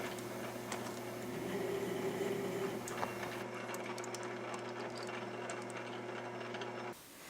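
A South Bend lathe cutting metric threads gives a steady mechanical whir with a low hum and faint rhythmic ticking of gears, moderately quiet and close, with no talking.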